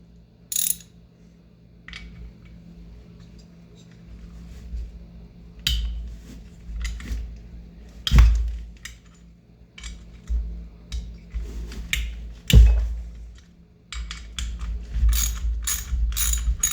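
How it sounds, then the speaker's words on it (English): Ratcheting screwdriver tightening a part on a motorized bike build, giving repeated bursts of sharp metallic clicking ratchet strokes spread across the clip, close and fairly loud, with a couple of heavier knocks and no talking. "Gotta love ratcheting screwdrivers."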